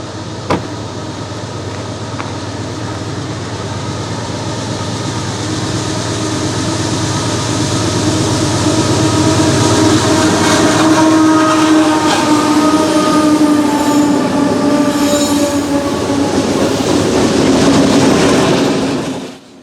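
CSX freight trains rumble steadily closer along the tracks near Nickajack Lake, Chattanooga, a loud sustained roar with rhythmic rail clatter and engine drone building before cutting off.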